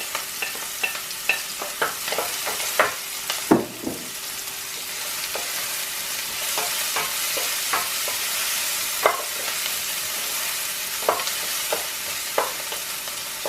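Garlic sautés in a hot pan with a steady broad sizzle, while a utensil stirs and scrapes against the metal in repeated sharp clicks throughout.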